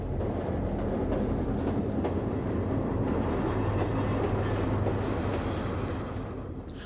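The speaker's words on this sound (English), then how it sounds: "the Dublin-bound train is being hauled by another of the 4 main types of General Motors locos" A General Motors 141 class diesel locomotive hauls a Dublin-bound passenger train in Ireland, a steady loud rumble of engine and rolling wheels with a thin wheel squeal rising near the end, no voices.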